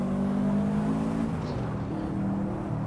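A race car engine in Assetto Corsa, on the Bilster Berg circuit, drones loudly and steadily up through the revs, with a slight pitch shift partway through as the car accelerates.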